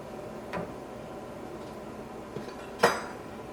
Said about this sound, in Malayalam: ഈ കബൂസ് ഉണ്ടാക്കാൻ വേണ്ടിയിട്ട് ഒരു പാൻ വെച്ചിട്ട് ചൂടാക്കാം